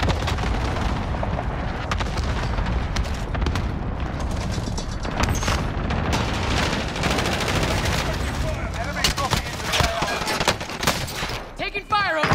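Gunfire in a multiplayer shooter game, a loud, continuous barrage of rapid automatic shots and blasts with a voice talking over the din.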